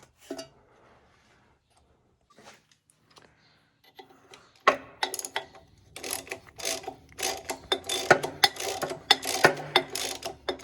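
Nuts are tightened on a John Deere B tractor. After a few faint taps, a close wrench starts ratcheting in rapid, uneven bursts of clicks that grow busier toward the end.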